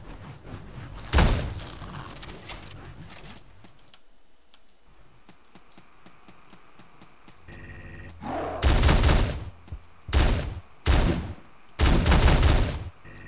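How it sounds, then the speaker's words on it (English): Double shotgun blasts in the top-down shooter Teleglitch: one heavy boom early, a stretch of quiet ticking game ambience, then a quick burst of four loud, close shots near the end. "That's what the double shotgun does, and it is glorious."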